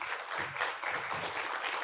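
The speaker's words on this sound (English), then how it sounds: "please a round of applause for our panelists" An audience at a regional carbon market panel session claps for the panelists, a faint, steady patter of applause throughout.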